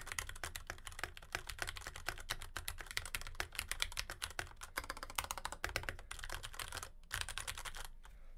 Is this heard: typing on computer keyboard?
yes